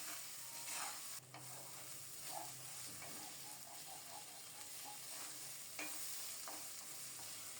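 Rice frying with spices in a pan while being stirred, a soft sizzle with scraping and scattered clatter from the utensil, quiet and close, with no voices.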